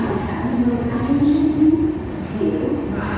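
Train pulling out of Itarsi station heard from inside a carriage with barred windows: a steady low rumble and hum of rolling stock, even and continuous, with a faint voice in the background.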